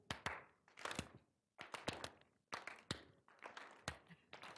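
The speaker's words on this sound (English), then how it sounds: "clap twice when I clap once and clap once when I clap twice" An audience claps in bursts during a clap-once, clap-twice counting game, with sharp clusters of claps separated by short pauses and uneven timing across about a dozen groups.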